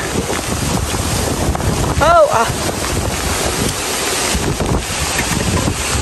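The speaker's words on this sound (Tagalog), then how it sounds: "Lakas pati ng hangin." Steady roar of strong wind buffeting the microphone, with a brief tonal squeal near the middle and a faint voice underneath.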